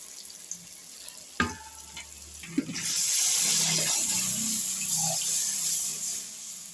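After a few clinks, fish curry gravy is poured into a hot pan and a loud, steady sizzling bubble of boiling gravy fills the rest of the clip.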